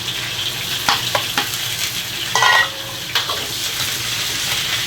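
Sauce hits pork trotters frying in a wok, a constant sizzle broken by sharp stirring clatters and a brief louder hiss as the liquid goes in, no talk.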